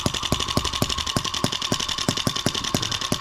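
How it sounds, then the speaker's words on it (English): Small M25 sideshaft engine running on a first start, a loud, rapid, rhythmic putt-putt of regular firing pulses, steady throughout and close up. "Kind of a loud little model running."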